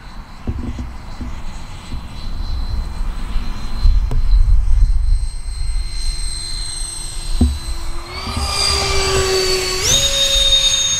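An FMS A-10 Thunderbolt V2 radio-controlled jet on a 5500 70C LiPo flies slowly overhead, its electric ducted fans giving a steady whine that holds a low drone, then rises in pitch twice as the throttle is pushed up.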